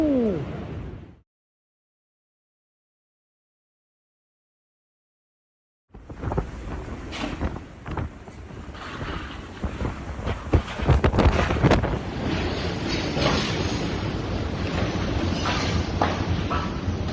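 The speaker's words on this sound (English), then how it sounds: "Storm with torrential rain and wind gusts of almost 90 kilometers per hour" Storm at Ezeiza International Airport, Argentina, with torrential rain and gusts near 90 km/h: a brief burst, a gap of silence, then loud sustained buffeting wind and rain roaring against the microphone, swelling in gusts.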